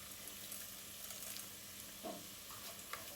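Softened onions with salt and chili flakes sizzle quietly in a pan, a faint steady frying hiss broken by a few soft stirring scrapes.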